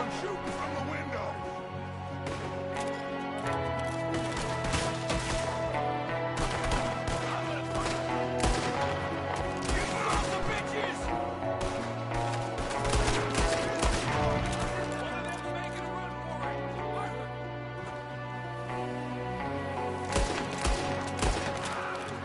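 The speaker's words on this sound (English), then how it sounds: "There's another one shooting from the window." Dense, continuous gunfire in a Red Dead Redemption 2 shootout with O'Driscoll boys, a shooter firing from a window amid rapid overlapping shots, loud and sustained over a busy mix with voices talking.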